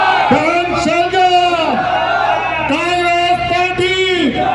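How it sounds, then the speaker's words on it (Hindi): Crowd at a Congress party election rally loudly chanting slogans in unison: drawn-out shouted phrases that rise and fall in repeated waves over continuous crowd noise. "जोरदार तालियों, जोरदार नारों के साथ उनका स्वागत कीजिए।"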